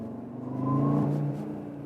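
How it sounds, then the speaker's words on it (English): An Audi RS Q3 under way in RS mode with manual shifting gives a steady, close engine and turbo drone that swells in the middle and then eases off, with no talk over it. "Heard that here from the turbo?"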